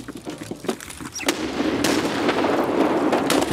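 Claymore mine explosions in Escape from Tarkov, several sharp blasts with crackling, a few scattered bangs early, then a sustained loud rumbling burst of detonations.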